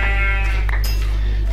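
A goat in the Minecraft video game bleats once, a loud, wavering, nasal cry heard clearly over a steady low hum, with no talking.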